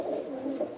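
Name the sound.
pigeons cooing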